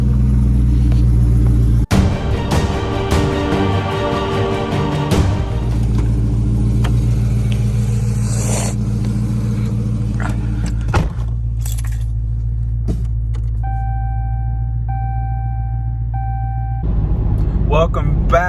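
A Dodge Charger R/T rumbles outside in the morning, a steady deep idle after a sharp start, with jangling keys at first, a thump midway and a voice talking over it.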